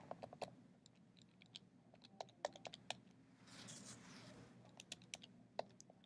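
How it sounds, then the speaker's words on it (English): Someone types quickly on a computer keyboard, with irregular close key clicks in short bursts and a soft rustle in the middle. "And I'm typing in the wrong thing over and over again."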